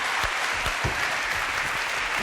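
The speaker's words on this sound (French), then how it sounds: "je voudrais que vous applaudissiez Hélène" A television studio audience claps for a guest, a full, continuous burst of applause with a few sharper individual claps standing out near the start, steady and loud with no talk.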